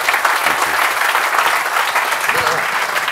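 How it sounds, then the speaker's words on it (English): An audience at MIPIM 2017 applauds Sir Howard for his career serving Manchester, a dense, loud, steady roar of clapping that holds for the whole stretch, with faint voices mixed in underneath. "give Sir Howard a clap and appreciation of his career"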